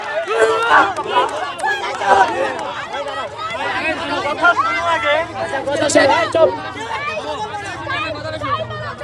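Students chant slogans in unison in front of police, a loud crowd of voices rising and falling in repeated shouted bursts with babble and calls mixed in throughout.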